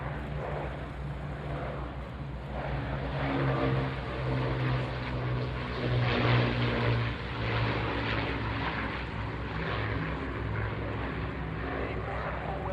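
Avro Lancaster bomber propeller engines drone steadily at the Fairford airshow, a loud, continuous low rumble with a throbbing engine tone that holds for the whole stretch.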